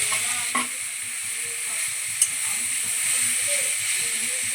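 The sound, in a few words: grated carrot frying and stirred in ghee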